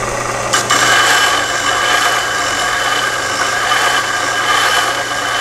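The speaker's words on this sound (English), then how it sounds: "And with the drill, we're gonna do the same thing." Hand drill working back and forth to cut down a height adjustment screw, giving a loud, steady, continuous rasping grind close by that runs without a break.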